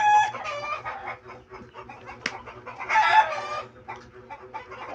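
Chickens clucking steadily with a rooster crowing partway through, close and fairly loud, with a sharp single click near the middle.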